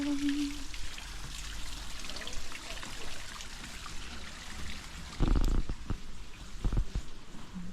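A waterfall at Waterford, Ireland, rushes in a steady, broad hiss that continues throughout, with a brief louder surge midway.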